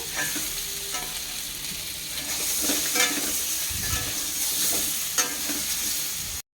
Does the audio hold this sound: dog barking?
no